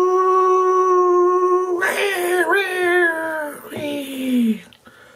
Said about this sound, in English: I have a bull terrier in the bathtub